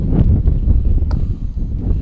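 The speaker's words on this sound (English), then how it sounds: "It's getting windy out, folks." Heavy low rumbling wind buffets the microphone in continuous gusts, with a faint clunk partway through.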